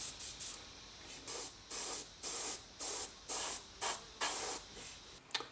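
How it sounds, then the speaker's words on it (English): An aerosol can of AK Worn Effects hairspray fires eight short, even bursts in a steady rhythm, each a close, bright hiss separated by brief silences. "let's give it a few sprays"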